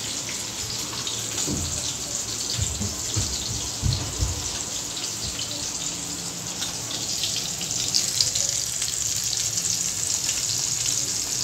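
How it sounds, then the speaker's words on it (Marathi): Bombil (Bombay duck) fish pieces frying in oil on a flat pan, giving a steady hiss and crackle that runs continuously at close range with some low clatter early on. "आपण असे सर्व मच्छी आता फ्राय करायला टाकू."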